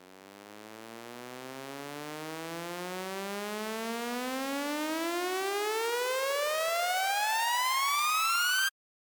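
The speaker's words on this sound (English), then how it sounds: "So yeah, pretty nice uplifter." A hardstyle synth uplifter riser sweeps steadily upward in pitch and builds in loudness for about nine seconds, then cuts off abruptly.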